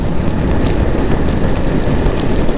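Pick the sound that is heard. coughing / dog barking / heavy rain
heavy rain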